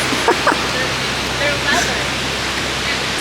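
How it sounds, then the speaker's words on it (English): Surf washes continuously onto a California beach, a steady loud rushing hiss filling the whole stretch, with faint voices briefly audible beneath it. "I'm making Eve touch the ocean."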